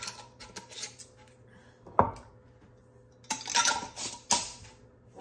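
A few sharp clinks and clatters of metal lids being put on glass relish jars, spaced apart with quiet gaps, close by and moderately loud.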